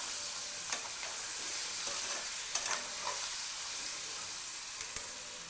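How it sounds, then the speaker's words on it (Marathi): Poha ingredients, including fried potatoes, turmeric and coriander leaves, are sautéed in a pan for batata poha, with a soft, continuous sizzle broken by a few light scraping stirs. "परतून घ्यायचं."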